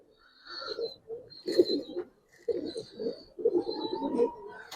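Giribaz pigeons coo in close, throaty bursts, several rounds of cooing with short pauses between, clear and near with no speech.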